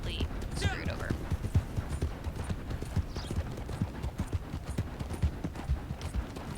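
Horse hooves clip-clop in a steady, even rhythm in Red Dead Online, with a brief whinny near the start and a voice talking over the hoofbeats.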